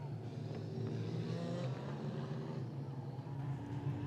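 A wingless sprint car pulls away on a slick dirt track, its engine a steady loud drone under a race commentator's voice.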